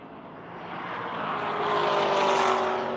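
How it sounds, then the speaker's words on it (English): A Stormtrooper-liveried BMW race car passes on the Grattan circuit during the Tire Rack One Lap of America, its engine noise loud and building to a peak as it comes close, then easing slightly, with no voices. "Here comes Bowie in his little Stormtrooper BMW"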